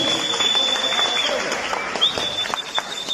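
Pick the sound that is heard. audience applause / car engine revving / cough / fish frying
audience applause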